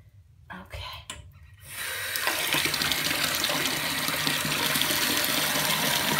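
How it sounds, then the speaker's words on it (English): A bath tap is opened and water gushes steadily and loudly into the tub, preceded by a few soft handling sounds and a quiet voice before the flow starts. "I'm going to turn on my water"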